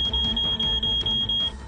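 A pager in Lebanon sounds a shrill, steady electronic beep in a rapid pulsing pattern, loud and close, continuing without a break and with no voices.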